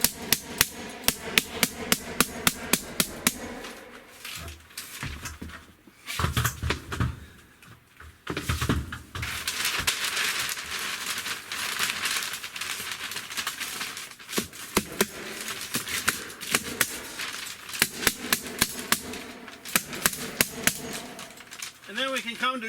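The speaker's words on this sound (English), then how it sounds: "make sure we're making 90, and staple it to the ceiling" Repeated sharp snapping staples from a staple gun fixing a foil vapor barrier to ceiling rafters in a sauna, fired in quick bursts at the start and end with crinkling foil and handling noise between, and people talking now and then.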